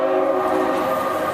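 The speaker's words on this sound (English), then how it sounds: "And there's that CSX freight." A CSX freight train rumbles through a MARC commuter station, a loud, continuous drone with steady tonal hum and rolling rail noise filling the whole stretch.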